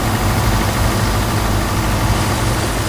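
A combine harvester's engine in Farming Simulator 19 idles with a steady, heavy low rumble that holds at an even, loud level throughout, with no voices over it.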